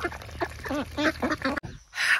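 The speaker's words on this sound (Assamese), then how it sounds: "এনেকৈ সৰু হাঁহ ডাঙৰ হাঁহ গোটেইখিনিকে দানা দিয়া হৈ গ'ল" Small and large ducks quacking while being fed paddy grain, a run of close, nasal calls in quick succession, then a brief pause and a final burst of noise.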